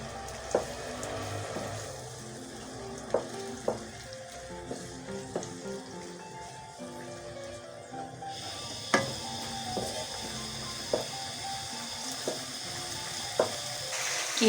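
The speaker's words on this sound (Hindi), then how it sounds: "कीमा हमारा सौते हो गया है।" Minced meat keema sautéing in a pan with onions, a soft continuous sizzle under scattered spoon scrapes and taps, some brief watery gurgles, no talking.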